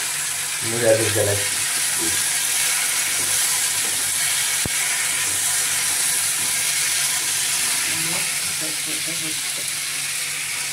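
Chili, turmeric, salt, cumin and coriander masala fries in a pan with a steady, close sizzling hiss throughout, with a few faint clinks and stirring sounds near the start and end.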